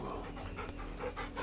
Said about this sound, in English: But also you can pet the dog.